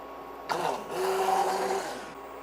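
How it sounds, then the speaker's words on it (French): An immersion blender whirs steadily with a sustained motorized drone while blending xanthan gum into a keto strawberry tart mixture, starting abruptly after a brief clatter and running continuously at close range before easing off. "c'est bien d'utiliser aussi le pied mélangeur"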